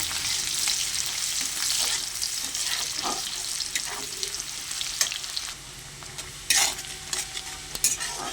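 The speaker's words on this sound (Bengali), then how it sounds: "পেঁয়াজ কুচিটা একটু লাল লাল করে ভেজে নেব।" Chopped onions fry in oil while being stirred, a dense close sizzle broken by scraping strokes and a few louder bursts.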